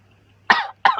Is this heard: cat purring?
no